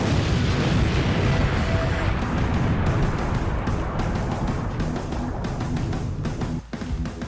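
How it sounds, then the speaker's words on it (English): Explosions from a tripwire trap in an animated action scene boom continuously, a dense, loud rumbling roar with crackling debris that fades slightly toward the end. "Then explosions come out."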